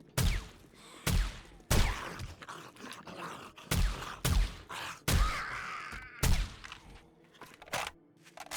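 Gunshots in 7 Days to Die ring out about a dozen times at irregular intervals, each a sharp, loud crack with a short tail, separated by near-silence.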